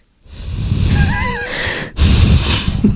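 Heavy, wheezy breathing is voiced straight into a microphone by a person imitating the sound, loud and close, with a warbling vocal whine in the middle and a sharp cut before a second rough breath.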